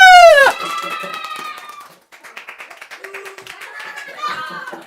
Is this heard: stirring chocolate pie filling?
no